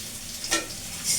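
Vegetables stirred and frying in a pan, a short scrape and sizzle rising twice over a quiet, faint background.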